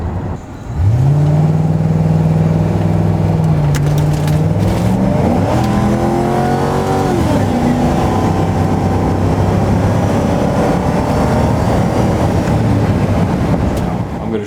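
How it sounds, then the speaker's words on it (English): A 2011 Ford Crown Victoria's engine starts and drones loudly up close, its pitch climbing with acceleration, dipping as the transmission shifts, then settling into a steady cruising hum. "shifts to the proper gear and the engine's just singing along"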